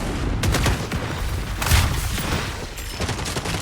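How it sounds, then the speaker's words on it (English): A rocket launcher fires and its rocket explodes in the shooter game FragPunk, a broad booming blast with a rumbling tail over steady background noise, a second burst of impact noise following shortly after. "he uses rocket to kill Chug"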